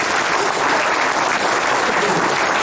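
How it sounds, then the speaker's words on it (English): An audience at a historical symposium applauds a speaker, a dense, steady wash of clapping that stays loud and unbroken throughout. "How about a round of applause for Kim Stacy?"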